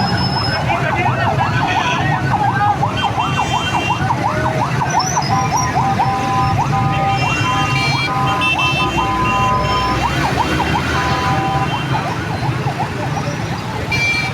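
Fire brigade sirens wail near a cylinder shop blast scene in Azadi Chowk, Lahore, a loud repeating up-and-down warble over crowd and street noise, strongest early and returning later.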